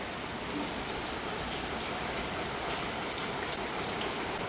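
Constant rainfall, a thick unbroken hiss of drops pattering on a surface, heard alone at a moderate level.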